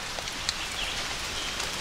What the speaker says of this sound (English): It's starting to rain a little bit.